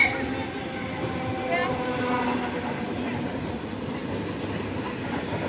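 An ED9E electric train arrives at a station's first track, rolling steadily with a rumbling, clattering drone, fairly loud and close, a faint station announcement mixed in.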